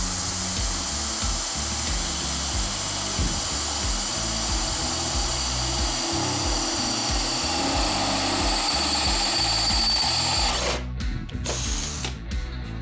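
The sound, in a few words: Mollar CID20500-U cordless impact drill drilling iron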